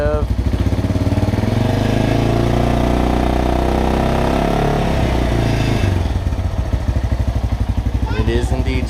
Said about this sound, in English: Alright, give it a little bit of a rev.